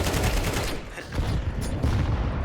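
Grenade explosions in the game Counter-Strike 2 burst out as loud, dense, booming crackles that fill the whole moment, heard close with no clear talk over them.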